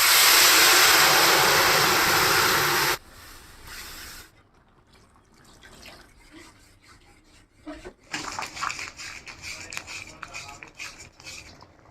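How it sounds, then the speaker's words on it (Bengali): A loud hiss of frying cut short as boiled masoor lentils are poured into the pan of fried onions, followed by quieter bubbling, stirring and clinks of a spoon. "আমি এখন ডালটা দিয়ে দিচ্ছি"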